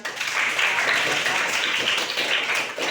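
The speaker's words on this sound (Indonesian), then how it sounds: "Tepuk tangan untuk teman kalian" Classmates clapping for a fellow student in a classroom, a steady dense patter of many hands that carries evenly throughout, with no voices over it.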